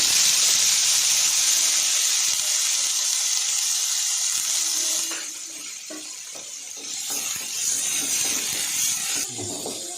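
Steady crackling and hissing of mustard seeds popping in hot oil, loud at first and then easing into scattered sputters.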